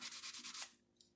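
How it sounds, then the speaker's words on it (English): Rust being rubbed off a metal grafting tool, a close, faint series of quick rhythmic scraping strokes that stop abruptly, followed by one brief scrape. "We're gonna clean it because this has rust on it."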